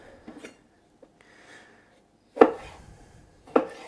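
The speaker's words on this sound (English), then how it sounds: "And then I'll cut them in little strips for my salad" A knife chops vegetables into little strips for a salad, giving a few faint soft cuts followed by two loud, sharp blade strikes on a board about a second apart, with no talking.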